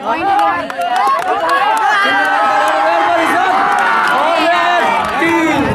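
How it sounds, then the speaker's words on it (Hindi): A crowd at a village kabaddi final shouts and cheers in a dense, continuous roar, with whoops and chatter rising over it and no clear break. "थोड़ा जोर चाहिए जोरदार तालियों के साथ"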